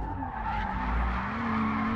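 Ferrari 296 GTB plug-in hybrid tires skidding under power, a continuous loud squeal with steady engine drone running the whole way through, close and without voices.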